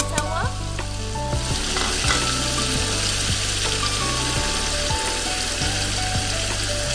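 Softened tomatoes fry with turmeric, dried chillies, salt and ground garam masala in a pot for beef yakhni pulao, giving a loud, constant close sizzle with a spoon scraping and stirring throughout.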